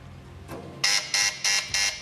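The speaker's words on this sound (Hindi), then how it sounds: "बात खत्म होने के बाद बजर बजेगी" A game show buzzer on a Ramzan iftar quiz transmission sounds four loud, evenly spaced harsh electronic bursts in quick succession, alone without talk.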